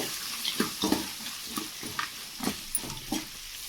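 Onions and green chillies sautéing in a pan, a soft frying hiss broken by repeated stirring scrapes at an irregular rhythm, close but fairly quiet.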